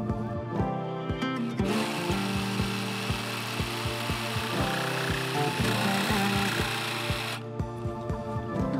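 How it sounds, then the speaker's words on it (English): A jigsaw cuts through the housing of a homemade composting toilet, its blade buzzing steadily and loudly with rapid rhythmic chattering strokes, the motor starting and stopping, no talk. "I'm going to take my jigsaw, and cut this right now."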